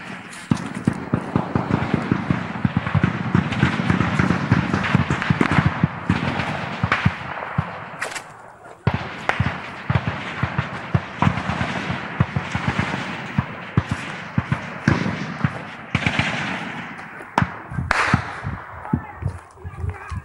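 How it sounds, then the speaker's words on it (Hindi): Gunfire exchange during a police operation against Naxals in Chhattisgarh, with sharp cracking shots in irregular bursts and single reports, some near and loud, others farther off, while voices shout intermittently. "उधर से भी फायर आ रहा है।"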